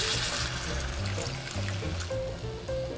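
Water trickles and pours into a pan of bulgur wheat and onions, a soft continuous gurgle with faint bubbling, close and fairly quiet.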